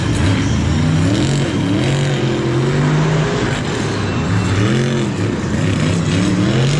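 A Monster Jam monster truck runs at full throttle on a muddy stadium track at MetLife Stadium in 2018. Its engine roars loud and close with rising and falling revs and no talking.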